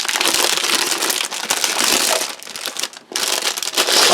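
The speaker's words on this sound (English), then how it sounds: "help take away the cellophane" Cellophane wrap is torn and crinkled off a cardboard box holding a French Army 24-hour combat ration, giving a loud, continuous close-up crackling and rustling with brief pauses.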